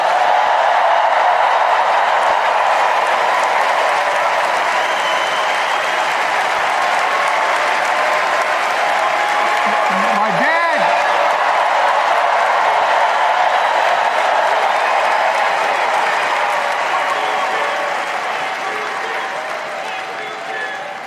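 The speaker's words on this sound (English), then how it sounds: "Let's give a special round of applause to our First Lady, Jill Biden." Sustained applause from a large crowd at the Democratic National Convention fills the space, steady and loud, slowly fading toward the end with a brief voice or whistle midway.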